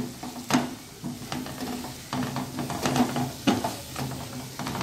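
Peas and potatoes being sautéed with red chili powder in a pan, a low sizzle under repeated spatula scrapes and clinks against the pan at an uneven rhythm, close, with no speech.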